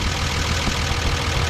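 A Datsun 280Z engine with fast EFI idles steadily and loudly up close, a constant low rumble filling the space with no talk over it.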